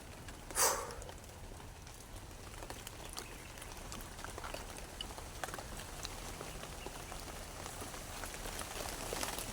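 Steady light rain in a horror video game patters continuously, with a brief louder swish near the start and scattered drop ticks throughout.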